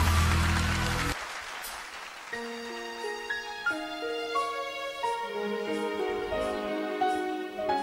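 A studio audience on a Taiwanese televised singing competition applauds loudly to welcome a singer for about a second. The clapping then stops abruptly as music begins.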